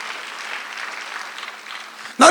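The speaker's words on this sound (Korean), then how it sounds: "박수 한번 주세요." A church congregation at a Sunday worship service claps together, a moderate, even patter of hands that holds steady before a sudden louder burst at the very end.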